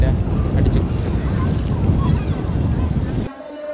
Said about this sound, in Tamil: இன்றைக்கு சரியான காற்றாக இருக்கிறபடியா வேறு இந்த இதில் தண்ணி எல்லாம் கரையில் அடிச்சு